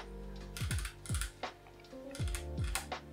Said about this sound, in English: the plastic on the front lip of the keyboard makes this creaking sound every single time I